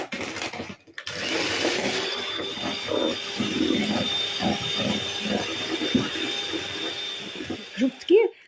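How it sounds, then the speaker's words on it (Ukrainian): An electric hand mixer runs at maximum speed beating egg yolks with sugar for a sponge cake, a steady close whirring hum after a brief start, while someone talks over it. "І збиваю на максимальних обертах міксера."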